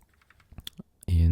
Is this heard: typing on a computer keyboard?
yes